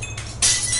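Window glass breaks with a sudden bright crash and scattering shards, loud and close, following a steady background hum and a softer hiss; no talking.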